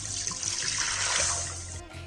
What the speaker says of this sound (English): And we'll drain the water.